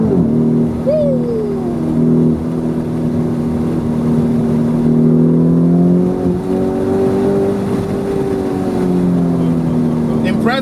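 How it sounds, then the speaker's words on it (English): The V8 engine of a 2020 Lamborghini Urus drones loudly and steadily under acceleration while driving, its pitch rising and falling, with a voice briefly audible inside the cabin. "That's a big boy V8."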